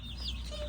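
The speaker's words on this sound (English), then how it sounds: "These little girls, these are my barred ones. These are my hens." Barred hens clucking close by in a short burst, a few soft calls over a low steady background.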